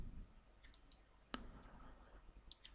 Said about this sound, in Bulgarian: кликвам вътре